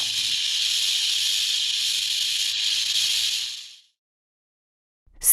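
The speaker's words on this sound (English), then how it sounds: "Snake." A loud, steady snake hiss runs continuously for several seconds, then cuts off into silence before a brief noise at the end.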